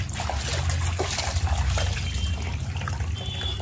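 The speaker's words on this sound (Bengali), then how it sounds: "চলো মাছটা ধুয়ে পরিষ্কার করে নিই" Tap water runs steadily while a fish is rinsed and cleaned in a kitchen sink before cooking a fish curry, a continuous splashing trickle close by with no talk.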